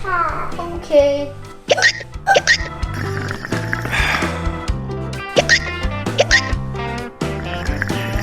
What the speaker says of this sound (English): Huh? You got hiccups now?